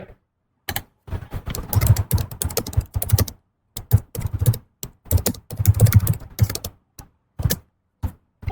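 Keys clatter on a computer keyboard in bursts of rapid taps, separated by brief pauses, close and fairly loud, with no one talking.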